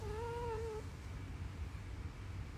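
A cat gives one drawn-out meow near the start, close and clear, then falls silent over a steady low background rumble.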